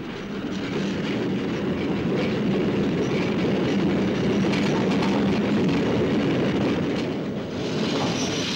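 A military train of the East German NVA, hauled by a class 42 steam locomotive, rolls along with a steady loud rumble and rhythmic wheel clatter throughout, with no voices.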